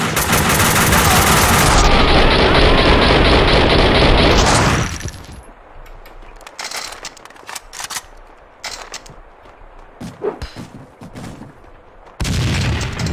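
Sustained heavy gunfire from Max Payne 2 roars loud and continuous for several seconds, then cuts to quieter scattered shots, clatter and bursts before another loud volley returns near the end.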